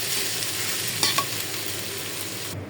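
Ginger, garlic, chili, cumin and whole spices fry in a pan with a steady broadband sizzle, close and continuous, broken by a couple of brief stirring scrapes before the sound cuts off.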